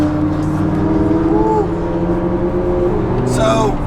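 Lamborghini Aventador V12 heard from inside a following Huracan on the road, a loud steady engine drone with a couple of rising rev swells, with a voice talking over it.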